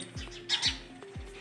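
A few quick, high sparrow chirps break out near an ashoka tree against a quiet background, brief and scattered rather than a continuous song.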